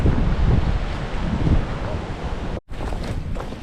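Steady wind buffets the microphone, a loud continuous roar with a brief dropout near the end.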